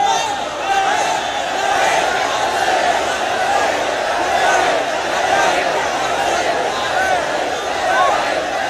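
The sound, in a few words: crowd chanting Labbaik slogans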